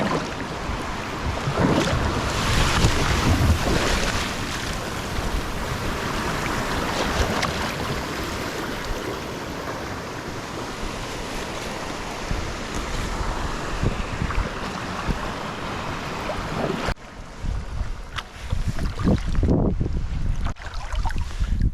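A whitewater kayak runs a roughly 1.5 meter beaver dam drop on a New Brunswick stream, rushing water and wind noise roaring loud and close throughout, turning choppier and more broken near the end.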